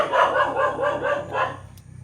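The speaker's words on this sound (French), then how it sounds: "Ouais, là il y a pas mal de chiens." Several dogs bark in a loose, repeated run, fairly close and moderately loud, outdoors on a walk where the dogs seem somewhat aggressive.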